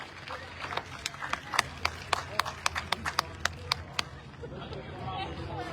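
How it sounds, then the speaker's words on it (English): A county fair tractor pull audience claps in a steady burst of around twenty sharp, even claps, close and fairly loud over a continuous outdoor crowd murmur and babble. "let's give Wally, come from Connecticut, a round of applause"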